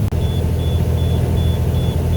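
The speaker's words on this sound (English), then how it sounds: "this thing's beeping at me. Got an engine warning." Repeated short electronic engine-warning beeps at a steady rhythm, about six in a row, sound over a loud low rumble of a running vehicle engine.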